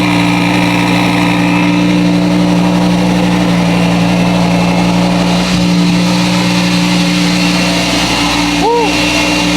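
Twin turbo Audi R8 engine idling after start-up, a loud steady droning hum with constant tonal whine throughout, a small rise near the end, and people talking over it.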